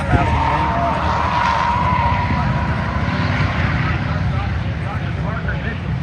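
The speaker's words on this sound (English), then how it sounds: "Burn out that warm-up lap out of the way." Race car doing a burnout on a warm-up lap at an Indy 800 event, a loud sustained roar of engine and spinning tires, with an announcer talking over it.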